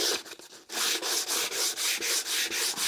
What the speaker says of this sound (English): what I've got here is just a little bit of 240 grit sandpaper